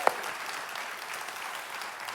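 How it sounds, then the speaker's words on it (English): A church congregation at an Easter service applauds, a steady wash of many hands clapping indoors that holds evenly throughout. "I know you've been clapping a lot"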